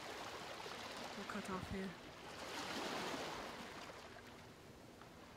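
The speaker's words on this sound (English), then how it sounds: "Why is the water so fucking loud?" Loud rushing water, like a stream or surf, floods the scene with a dense, steady roar, while people speak briefly over it.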